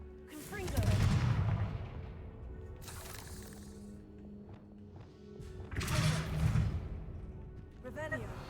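Two loud bursts of the Confringo fire spell in Hogwarts Legacy erupt about five seconds apart. Each is a booming, crackling blast that decays into a lingering rumble under game music.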